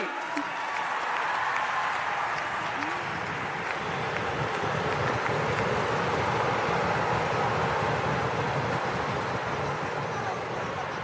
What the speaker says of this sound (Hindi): इनके लिए एक बार जोरदार ताली बजाइए भैया